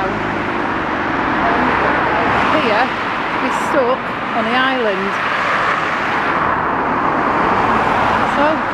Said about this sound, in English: All of a sudden now, there's like a million cars coming down.